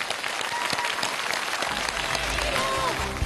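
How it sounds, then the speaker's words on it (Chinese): A studio audience at a televised singing competition claps steadily and warmly for a contestant. The applause is continuous and fills the space throughout, with a faint low hum rising underneath partway through. "掌声送给周斌"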